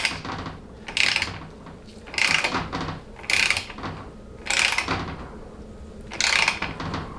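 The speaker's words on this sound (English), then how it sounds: "notice how far this screw is penetrating into the lever even before it gets to the point where I actually have to turn the wrench itself" Ratchet wrench clicking on a screw during final assembly of a Chrysler Jeep A904 (A998) automatic transmission rebuild, about five bursts of rapid ratcheting spaced roughly a second apart, close and alone.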